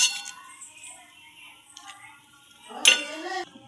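A spoon clinks and scrapes against a pan as katla fish kalia curry, topped with coriander leaves and garam masala, is stirred. There are light, sparse taps, then a brighter clatter near the end.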